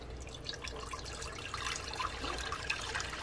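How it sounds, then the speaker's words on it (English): Five cups of mustang grape juice pour back into a pot in a steady trickling, splashing stream with scattered drips, fairly quiet and close, without talking. "Now I'm going to pour my 5 cups back into my pot."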